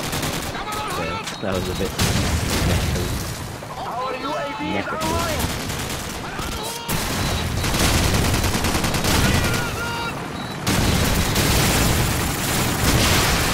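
MP44 rifle fire in Call of Duty 4 rattles out in rapid bursts, joined by other gunfire and explosions in a busy multiplayer match, with a player talking briefly over the shooting.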